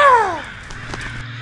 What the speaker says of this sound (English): Drink up, you dang crow!